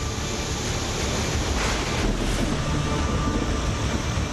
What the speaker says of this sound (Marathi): सांगलीची येरळा नदी पावसामुळे दुथडी भरून वाहू लागली